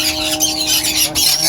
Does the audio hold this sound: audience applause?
no